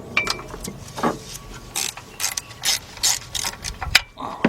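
A ratchet wrench with a 9/16 deep socket on a 4-inch 3/8-drive extension works a nut loose on a 1977 Buick LeSabre 5.7 engine, making a close run of rapid, uneven ratcheting clicks.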